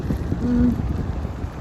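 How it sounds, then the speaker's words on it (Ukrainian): Strong, cold wind blows outdoors in Scotland, a steady low roaring buffet against the microphone that swells slightly midway, with no one speaking. "погода не дуже сприяє, сильний вітер, і, можливо, мене не буде чути"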